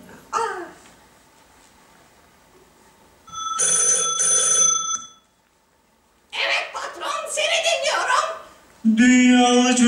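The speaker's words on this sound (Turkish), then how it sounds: "Bu sırada ajan Nikotin'in telefonu çalar." A telephone rings in a children's theatre play, a steady electronic ring that stands out between stretches of animated talk and giggling, fairly close and clear.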